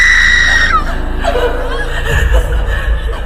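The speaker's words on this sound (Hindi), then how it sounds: "वो चिल्लाती हुई जोर जोर से रोने लगी।" A woman screams and wails in a Hindi horror story set in a haunted hospital, a loud, close, high-pitched cry that bends downward and breaks into sobbing, choked sounds.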